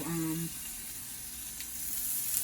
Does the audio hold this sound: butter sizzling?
yes